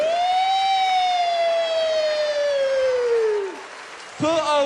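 A human voice imitates a police car siren, holding one long, loud, slowly falling wail close up, and then another rising whoop starts after a short pause.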